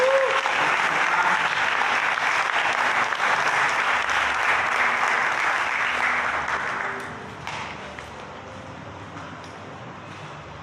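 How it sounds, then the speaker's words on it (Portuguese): A church congregation applauds together in sustained, dense clapping that holds steady for several seconds and then fades away, leaving quieter room sound. "vamos aplaudir a Jesus agora pela vida"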